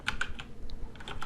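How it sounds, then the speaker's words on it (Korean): Quick, uneven keystrokes on a computer keyboard while example code is typed, a short close burst of light clicks with no voice. "타이핑 해보죠."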